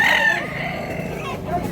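A rooster crows once, loud and close, in a brief outdoor call that trails off at a Cebu market stall selling fowl.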